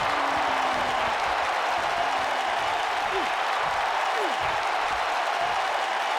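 Crowd in a WWE 2K19 SmackDown arena roars with sustained cheering and applause, a dense, loud wash of noise that holds steady throughout with no clear talk on top.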